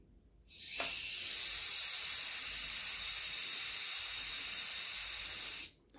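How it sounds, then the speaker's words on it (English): Air hisses out of the valve of a tubeless NIU KQi2 Pro scooter tyre, a loud, steady, continuous rush that starts abruptly and holds for about five seconds before cutting off, with no talking. "first we need to release the air from the tire and remove the valve core"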